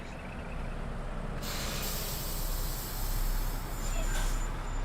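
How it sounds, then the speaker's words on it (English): Air brakes on a Peterbilt 389 in American Truck Simulator with a realism sound mod give a sudden loud hiss of released air, a steady broad rush over the idling truck's low rumble, no talking. "I got this mod that makes the sound of the brakes and air and everything, like the air brakes of it, just sounds so realistic."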